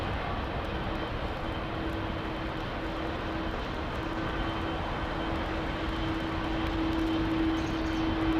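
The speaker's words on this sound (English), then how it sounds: "Nah, 747 jumbo." Boeing 747 jumbo jet at Heathrow, a steady broad engine roar with a faint sustained whine, continuous and fairly distant throughout, no voices.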